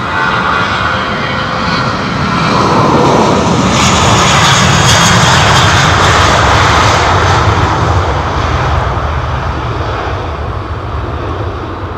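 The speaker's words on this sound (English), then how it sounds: "Listen to those engines, man." Jet airliner engines roar loudly and steadily at London Heathrow Airport, a close, continuous rumble that swells in the middle and eases slightly toward the end.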